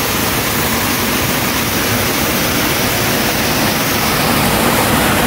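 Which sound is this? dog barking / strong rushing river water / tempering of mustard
strong rushing river water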